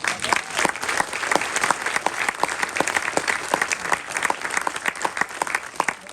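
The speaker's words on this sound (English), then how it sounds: "so let's give him a round of applause" Audience applause at a film premiere at the AFI Theater, with dense clapping and sharp individual claps filling the room steadily for several seconds, no voices over it.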